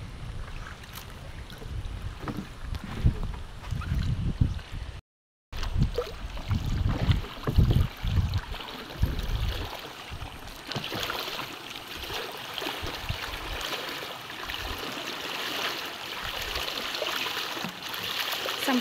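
A bangka boat crosses the water at Magsaysay, with a steady rush of hull and wind noise throughout, a louder rumbling stretch early on, a short cutout near five seconds, and no talk.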